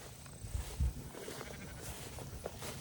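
Sheep on a farm in summer heat give a few faint bleats amid soft outdoor background noise.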